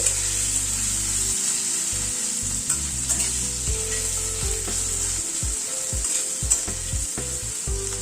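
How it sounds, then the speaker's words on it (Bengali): Chopped ginger and green chilies fry lightly in hot oil in a pan, a steady sizzle broken by stirring scrapes and clatter, with no voices. "আদার কাঁচা লঙ্কাটাকে হালকা করে ভেজে নিচ্ছি"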